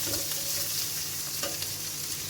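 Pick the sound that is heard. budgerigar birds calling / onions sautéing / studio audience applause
onions sautéing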